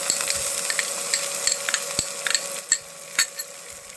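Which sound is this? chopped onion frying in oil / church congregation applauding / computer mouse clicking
chopped onion frying in oil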